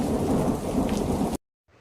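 Heavy rain pours down in a dense, steady wash with rumbling thunder beneath, loud and close for over a second before cutting out abruptly, leaving only a faint trace of rain.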